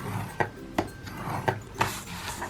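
A WRMK envelope punch board working on paper, four sharp, evenly spaced clacks and punches over a soft rubbing background, close and without talk.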